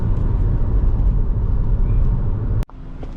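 Low, steady road rumble from inside a 2003 Subaru Legacy JDM car while driving, ending in a sharp click followed by a sudden drop to a quieter hum.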